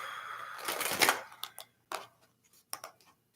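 Tarot cards shuffled by hand in a few riffling, rustling bursts, a longer one first, then short separate snaps of the deck, close and fairly quiet with no talking.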